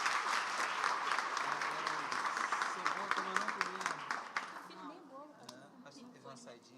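A church congregation breaks into loud, sustained applause that thins out toward the end, leaving a few voices talking as the clapping fades.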